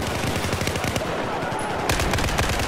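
Rapid bursts of machine gun fire from a Battlefield 4 firefight rattle close and loud, with dense overlapping shots continuing throughout and a sharper volley near the end.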